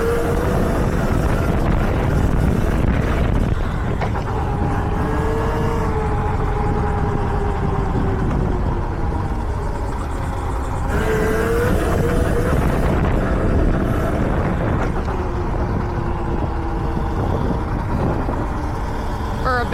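An E-Box Dragster electric bike doing wheelies: the motor whine rises and falls in pitch with each burst of throttle, under constant heavy wind rumble.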